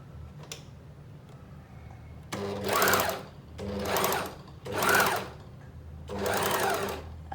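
An overlock sewing machine runs in four bursts as the pedal is pressed and released, each whirring stretch lasting about a second with quiet pauses between.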